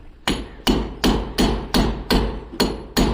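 A hammer strikes a workpiece eight times in a steady, evenly spaced rhythm. Each blow is loud, close and sharp, with no talking over it.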